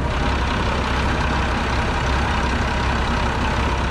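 Bizon combine harvester engine running during a barley harvest: a loud, steady, dense mechanical drone that holds unchanged for a few seconds, heard close with no voices.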